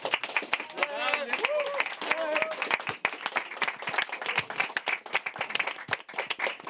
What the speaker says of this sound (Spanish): Quiero primero que nada pedirles un gran aplauso acá a los artistas que están presentes.